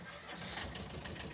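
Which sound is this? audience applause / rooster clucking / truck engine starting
truck engine starting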